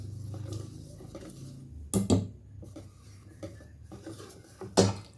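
Beaten eggs for a cake batter are stirred gently in one direction, making a soft, steady scraping in the bowl punctuated by a few louder utensil clinks against its side.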